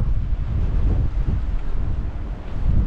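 Strong wind buffeting a microphone outdoors near the Maltese coast around Gzira and Manoel Island, a loud continuous low rumble with gusty surges and no talk.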